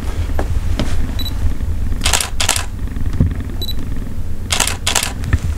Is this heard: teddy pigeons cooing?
no